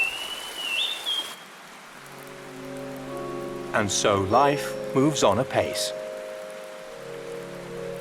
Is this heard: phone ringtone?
no